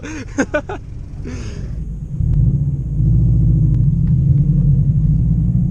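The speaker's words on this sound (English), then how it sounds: "Oh, he's got the mufflers chopped off. That's loud." A loud car with its mufflers chopped off rumbles at a track day, a deep close exhaust drone swelling after a few seconds and holding steady, with a brief voice at the start.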